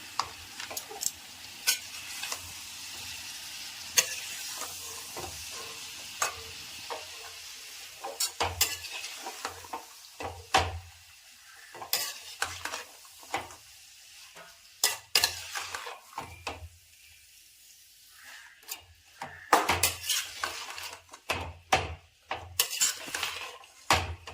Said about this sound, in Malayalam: ആവശ്യത്തിനുള്ള ഉപ്പും കൂടി ചേർത്ത് നമുക്കൊന്നും കൂടി ഇളക്കി കൊടുക്കാം